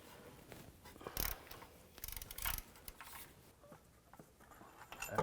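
Ratchet clicks from a 13mm socket wrench loosening starter bolts on a 2003-08 Chevy Tahoe, a few short bursts of clicking with mechanical rattles, close and moderately loud, no talking.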